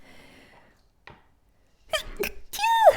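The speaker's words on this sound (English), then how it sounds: "Okay, I gotta sneeze." A single sharp sneeze bursts out after a quiet pause, followed by a short voiced exhale.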